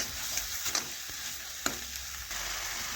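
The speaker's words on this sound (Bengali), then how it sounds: "এই দেখুন এইভাবে নাড়াচাড়া করে মশলা একটু কষে নেব" Spice paste (masala) being stirred and fried in a pan, with a steady sizzle under scattered spoon scrapes and taps close by.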